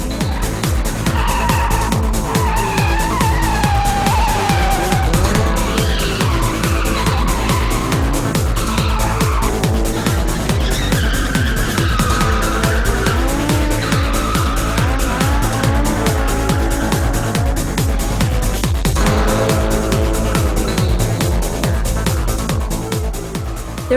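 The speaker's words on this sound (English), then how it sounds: "I guess that makes the drivers want to show off their drifting even more." Tires squeal in long wavering screeches over a constant loud engine roar at a street drifting meet of about 30 cars, cars drifting close by with a crowd murmur underneath.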